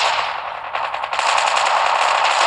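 Sustained automatic gunfire from the mobile shooter game Call of Duty Mobile, a dense continuous rattle of rapid shots that briefly dips and then resumes loud and unbroken.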